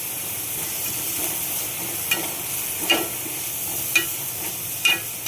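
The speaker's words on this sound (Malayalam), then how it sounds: "ഒരു സവാള ചെറുതായി അരിഞ്ഞത് ഒരു പച്ചമുളക് ഇതൊന്ന് ഇളക്കി കൊടുക്കുക" Chopped onion, green chilli and curry leaves sautéing in a pan for a Kerala bitter gourd thoran, a steady moderate sizzle with several crisp spoon taps and scrapes as the mix is stirred, no voices.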